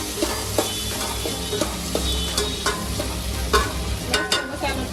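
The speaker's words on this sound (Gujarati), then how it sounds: "મસ્ત આપણે હલાવીને તૈયાર કરી લઈશું।" A spoon stirs spice masala with salt, garam masala, coriander-cumin, turmeric and red chilli as it fries in a pan for pulao, with a steady sizzle broken by repeated scraping strokes.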